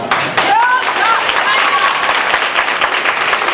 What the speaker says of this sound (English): Let's give Josh a round of applause.